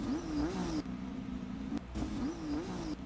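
An engine revs twice in an online motorcycle video game, each rising whine climbing and then holding before it cuts off, the second burst repeating the first.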